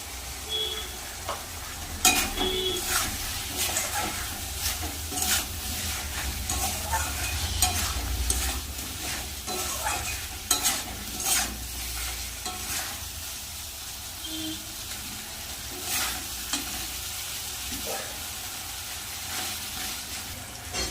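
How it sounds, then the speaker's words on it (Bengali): Tomato and potato sautéed with spices in a pan, making a soft sizzle under irregular scraping and stirring strokes that recur for the full length, close and moderately loud, with no one speaking. "এখানে টমেটো আলু ভালো করে মশলার সাথে কষানো হচ্ছে"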